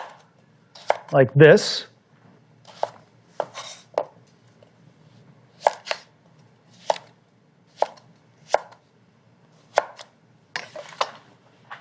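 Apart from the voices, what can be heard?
chopping carrots into sticks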